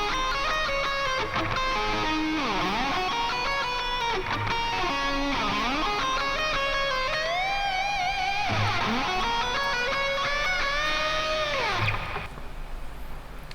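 Electric guitar plays the second solo of a song as one continuous distorted line with repeated pitch bends and dives, loud and steady until it thins out near the end.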